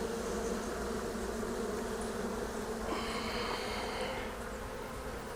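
Honeybees buzz steadily around an opened hive during a routine inspection of the honey super and brood box, a close, continuous drone with a brief louder pass of wings near the middle.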